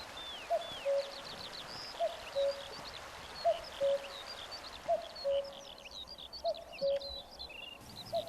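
Birds singing on the Scottish isle of Eigg: a repeated cooing call at a regular, steady rhythm, overlaid with high chirps and twittering from several birds at moderate distance in a quiet outdoor setting.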